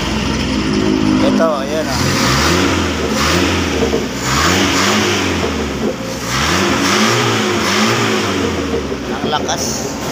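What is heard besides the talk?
engine revving after carburetor repair kit change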